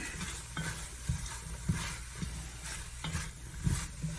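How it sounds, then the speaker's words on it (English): Potatoes sauté in a hot pan for seafood chowder, with a steady close sizzle broken by repeated scraping and stirring knocks. "we're going to let them saute"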